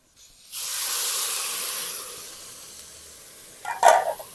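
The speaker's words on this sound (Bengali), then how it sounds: "জল দিয়ে দেব।" Water splashed into a pan of frying potatoes sets off a sharp burst of hissing steam that slowly fades, followed by a brief clatter near the end.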